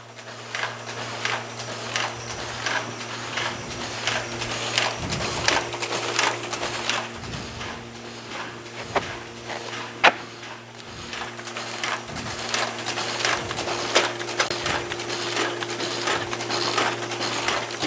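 A B+H Phillipsburg 5000 envelope inserter runs steadily, its low mechanical hum overlaid with continuous rapid clicking, clattering and ticking of paper handling, close and fairly loud, with no talking.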